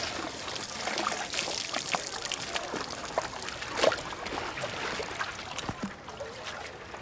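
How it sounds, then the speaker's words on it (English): Water pours and trickles back after a vessel is dipped into source water, a steady splashing stream with a louder slosh in the middle, fairly close, with no talking. "And dip it into the source water."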